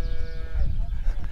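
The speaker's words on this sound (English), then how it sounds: "You make a lot of noise for a small cow, eh?" A small cow in the Azores countryside on Pico Island moos loudly and close by, one short strained call.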